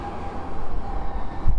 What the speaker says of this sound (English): there's a tram